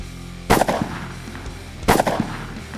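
Two loud, close Smith & Wesson 500 revolver shots fired into a pork shoulder, each a sharp crack followed by rattling echoes, spaced about a second and a half apart.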